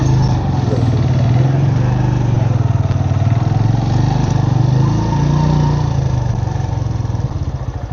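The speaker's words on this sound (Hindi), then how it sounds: "ये जी यहाँ पे बाइक पार्क करते हैं" A motorcycle engine runs steadily and loudly up close while the bike is being parked at Altit Fort in Hunza, with a constant low rumble and no clear revving; no talking.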